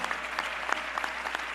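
An audience at a town hall meeting claps in a steady, dense burst of applause, fairly loud and sustained, with no speech over it.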